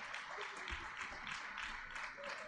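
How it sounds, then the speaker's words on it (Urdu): Audience applause at a Lahore ceremony with the caretaker Chief Minister of Punjab, a steady, fairly faint wash of clapping filling the whole stretch without a clear voice over it. "خواتین و حضرات، آپ کی بھرپور تالیاں لیڈیز اینڈ جینٹلمین۔"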